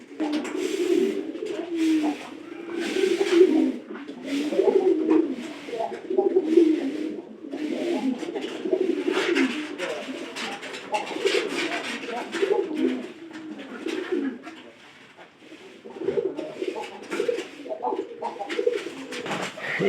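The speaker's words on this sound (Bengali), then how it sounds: "এই পায়রা ডাক দেওয়ার সাথে সাথে" Pigeons cooing repeatedly at a loft with nesting birds, a steady run of low throaty coos close by, with some background voices and scattered chirps.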